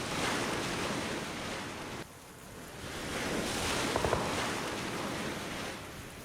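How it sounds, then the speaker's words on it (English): Loud rushing river water in a video game, a dense, steady roar of flowing water that fills the whole stretch, dipping briefly before swelling back. "A quiet river on Sanok does not deafen you like this."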